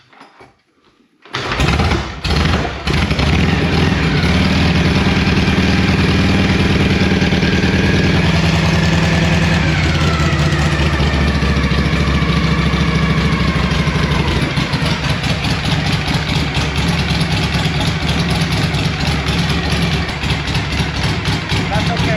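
A 1962 Panhead motorcycle engine fires up after a short quiet start with a few kick strokes, then settles into a loud, steady, close-up idle with a throbbing rumble.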